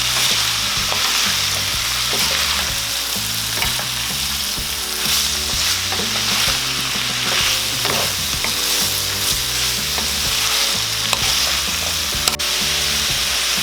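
Beef innards stirred and frying in a pan, a steady close sizzle with scraping spoon strokes throughout, background music tones running underneath.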